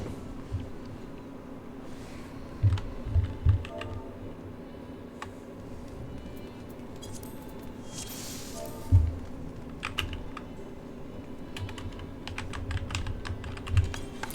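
Computer keyboard typing during chat in an online game, a steady run of soft clicking keystrokes with a few louder key bursts, alone with no talk.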